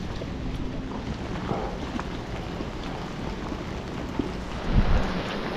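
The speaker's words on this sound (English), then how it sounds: "It started pouring, so you can see rain's coming down kind of hard." Heavy rain pours down on a windy harbor dock at Newport Harbor, a steady dense hiss with low wind rumble and a brief louder thump near the end.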